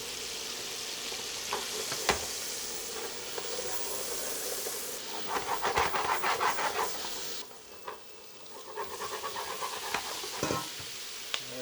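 Butter sizzles and hisses steadily in a hot frying pan used for Brussels sprouts, with louder crackling bursts and scraping stirring noises swelling midway, and no talking.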